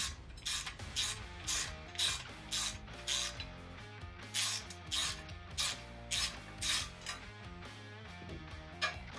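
Metal lock nuts on a Dramm MS20 100 hydraulic sprayer are snugged with a 7/16 wrench, giving a steady run of close, crisp ratcheting clicks in regular bursts with no talking.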